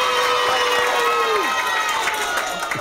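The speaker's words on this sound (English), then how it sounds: "everybody's going to clap their hands and go yay" Children in a library audience at a magic show shout a loud, sustained cheer of yay with some clapping, a dense crowd roar filling the whole stretch.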